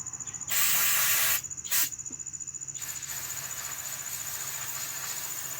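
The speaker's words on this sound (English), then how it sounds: "Spray down and wipe off the carburetor from the outside to make sure that we don't get no debris on the inside." Two quick bursts of spray cleaner hit the outside of a carburetor, a long hiss followed by a short one, close and fairly loud, then a steady faint background hiss.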